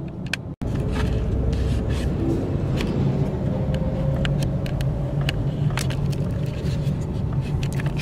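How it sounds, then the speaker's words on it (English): A car creeps through heavy traffic, heard from inside as a steady low road rumble and engine hum with scattered small clicks and bumps, close and continuous. "since I am stuck in traffic still"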